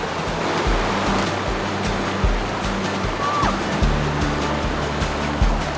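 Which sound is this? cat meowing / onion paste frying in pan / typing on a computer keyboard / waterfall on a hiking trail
waterfall on a hiking trail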